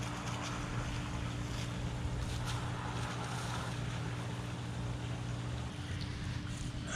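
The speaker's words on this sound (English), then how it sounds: "Next, we installed the new valve and finally got the filter working." A backyard pool filter with a newly installed valve runs steadily. A constant motor hum sits under a broad wash of churning, bubbling water, with no talk.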